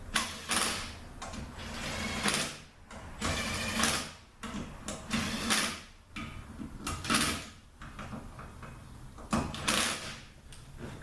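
A wrench torques bellhousing bolts on a 722.6 transmission, giving repeated bursts of close ratcheting clicks separated by short pauses, with faint metallic handling between them.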